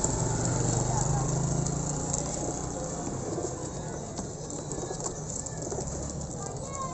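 Mixed-breed pigeon chicks, including Sialkoti, Teddy cross and Golden cross birds from one loft, coo softly and continuously amid a steady background hum, with faint indistinct chatter.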